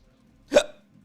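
A single sharp sneeze-like burst from a person at a desk, brief and fairly loud against near silence, with faint background hum before and after.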